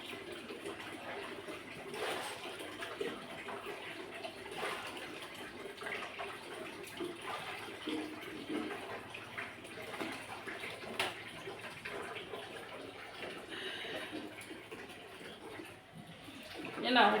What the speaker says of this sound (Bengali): তারপরে জামা কাপড়গুলো ভেজাই